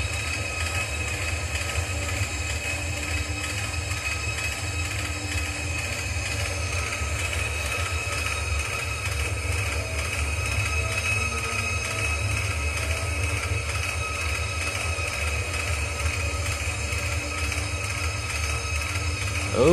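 A Shinkansen high-speed train runs in the Trainz: A New Era community edition game, giving a steady, unbroken mechanical rumble with tonal hum and rail noise. It stays loud and even throughout with no speech.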